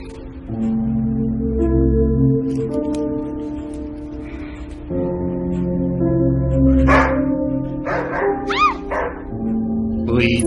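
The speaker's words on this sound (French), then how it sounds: "Oui, tu es un bon chien." A dog barks and yips in short bursts over a steady music bed, close and fairly loud, with a few whimpering whines near the end.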